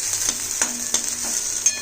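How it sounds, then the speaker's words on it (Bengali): Chopped onion sizzles steadily in a hot pan of oil where garlic was just fried, with a few soft stirring scrapes cutting through the constant crackle; no one speaks. "পেঁয়াজ কুচিটাও সুন্দর ভাজা হয়ে গেছে"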